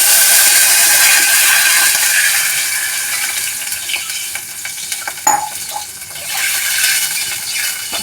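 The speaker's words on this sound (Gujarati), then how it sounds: "હવે આપણે એમાં પાણી નાખીશું" Water is poured into a hot tempering of mustard seeds and asafoetida for a corn meal handvo, setting off a loud crackling hiss that fades midway, flares briefly again, and is followed by bubbling and sizzling.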